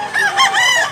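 A young Banugon fighting rooster, a ten-month-old bullstag, crows close and loud in one short wavering call.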